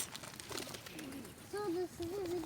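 Pigeons coo softly while being fed by hand outdoors, a few low throaty warbling calls in the second half, with faint rustling and light background noise around them and no talk over the calls.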